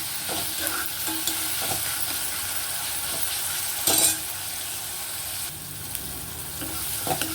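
Onion and tomato sauté in a pan with salt, a continuous close sizzle under frequent stirring scrapes and a brief louder clink of the spoon on the pan.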